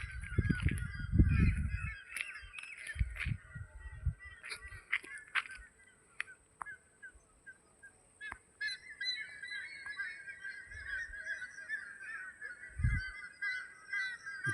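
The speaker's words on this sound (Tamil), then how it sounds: "சாயந்தரம் நேரம் பறவைகள்லாம் அடையிற நேரம் சத்தம் கேட்குது பாருங்கள்." A chorus of birds chirping and calling from a distance as they roost in coconut trees in the evening continues steadily, with occasional louder honks and low rumbles of nearby movement.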